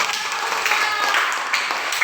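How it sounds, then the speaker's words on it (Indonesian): A classroom of students clapping together, a loud dense burst of hand claps filling the short moment, close and bright. "Tepuk tangan."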